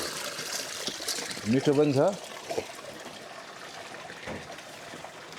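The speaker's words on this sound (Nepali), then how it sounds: "यो ढुङ्गेधाराको पानी, यसको अल्टिट्युड धेरै छैन" Cold water runs steadily from a stone water spout at Chisapani, a low-altitude spot on the way to the Tsum Valley, making a constant hiss under a brief stretch of nearby talk.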